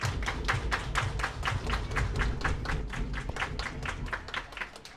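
A crowd claps in a steady, quick unison rhythm at an outdoor baseball game, Welland Jackfish at Barrie Baycats in the IBL finals, the sharp claps repeating evenly for several seconds over a low rumble of the ballpark.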